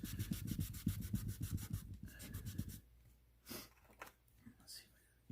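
Glue residue rubbed off a plastic camera with window cleaner and a cloth, a brisk rhythmic scrubbing close by that stops partway, followed by quieter handling with faint talk.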